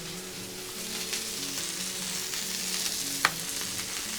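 Steak frying on an outdoor griddle as garlic, rosemary and thyme go down, a continuous near sizzle and crackle with a low steady hum beneath and one sharp metallic tap near the end; no talking.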